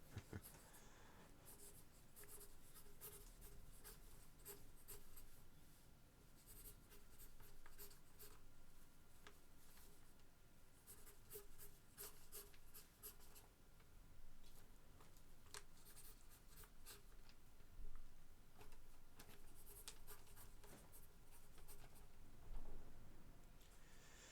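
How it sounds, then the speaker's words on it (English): A pen scratching across paper while sketching buildings for a comic splash page, continuous faint close strokes and taps in an irregular rhythm over a quiet room, no talking. "Maybe just draw a couple more buildings."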